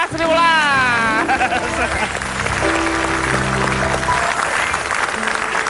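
Studio audience applause at an Indonesian comedy talk show, a broad wash of clapping and crowd noise that builds loud and then thins out, with a performer singing over the start and people talking throughout.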